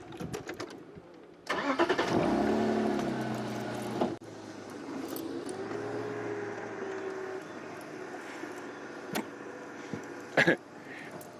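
A safari vehicle engine cranks and catches on a sunrise game drive, a loud start followed by a steady idle that carries on with a few faint clicks and knocks.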